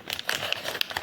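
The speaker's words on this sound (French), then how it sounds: "Je suis bien efficace pour plier les cadeaux." Gift-wrapping paper crinkling and folding at close range, a run of crisp, uneven rustles with a few sharper crackles and no talking.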